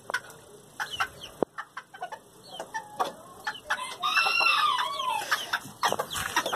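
Hens cluck and squawk in scattered bursts inside a poultry coop at a breeding farm, with a rooster crowing in a louder drawn-out call midway, all fairly close and without talk.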